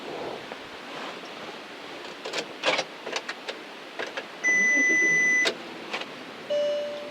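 A VW Touareg with electrical faults, stuck in park with ABS faults, sounds a long sustained warning bong and later a second tone, amid scattered clicks, rustles and cabin noises nearby, with no speech.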